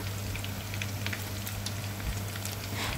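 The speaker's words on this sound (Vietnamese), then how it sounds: "Thì mình sẽ chiên cho vàng đều hai mặt." Vegetarian ribs fry in oil in a pan until golden on both sides, giving a soft, steady sizzle with scattered small pops and crackles. It is quiet and continuous, with no voices.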